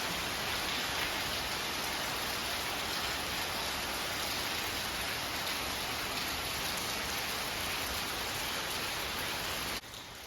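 Heavy rain pours down at night at a village home, a loud, dense, unbroken hiss that continues throughout and softens slightly at the very end.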